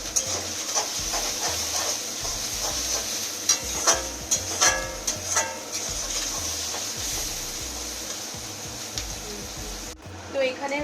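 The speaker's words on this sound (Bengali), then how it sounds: "এখানে হচ্ছে ভেজিসগুলো সব ফ্রাই হয়ে গেছে" Vegetables stir-fry and sizzle in a pan with salt and sauce before chow mein noodles go in: a steady hiss with scattered spatula scrapes and clicks, fairly close, with a voice at times underneath.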